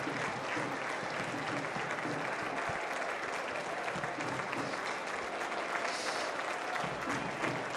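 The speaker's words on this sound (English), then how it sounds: "As the switchback player gives an applause" Stadium crowd at a San Antonio FC versus Colorado Springs Switchbacks FC soccer match claps continuously as a substituted player walks off, a far-off, even roar of applause lasting several seconds.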